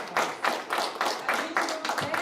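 A church congregation claps in a regular rhythm, about seven or eight sharp beats in a row, close and fairly loud.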